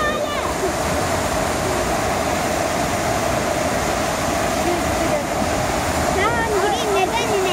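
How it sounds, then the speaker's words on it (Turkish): Waterfall at Ayder plateau in Rize roars steadily and loudly, a dense continuous rush of water up close, with voices and a brief chirping sound briefly rising over it near the end. "Şelale."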